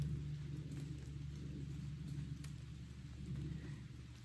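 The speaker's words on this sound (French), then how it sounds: "peut-être que vous entendez la pluie" Rain falls steadily as a soft, even wash of noise outdoors near a home, faint and continuous with a low rumble beneath and a few scattered drop taps, without talk.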